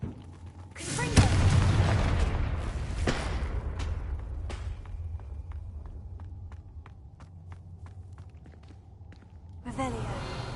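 A Confringo fire spell from the Hogwarts Legacy video game erupts in a loud, near blast with a rolling rumble, then lighter game clicks and taps, and a second burst arrives at the end.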